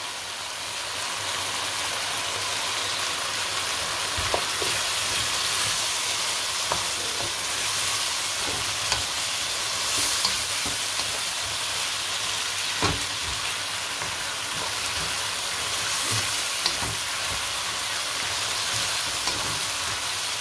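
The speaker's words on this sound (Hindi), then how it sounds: "अब इसमें आलू डालेंगे और इनको भूनेंगे अच्छी तरह" Potatoes frying in oil in a pot for aloo pulao, a continuous loud hissing sizzle punctuated by occasional spatula knocks and stirring scrapes, with no voices.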